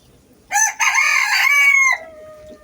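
A rooster crows once close by in Dhaka, a loud, clear cock-a-doodle-doo rising and then trailing off, with a quieter catch at the start.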